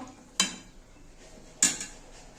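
Vegetables in a pot of katla fish curry with drumsticks and green banana are stirred, giving two sharp metallic scrapes and clinks of a spoon against the pot over a quiet background.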